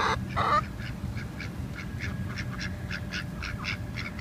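A chicken and other birds approach outdoors, giving a loud squawk at the start and then a steady run of repeated calls at a short distance over faint background noise.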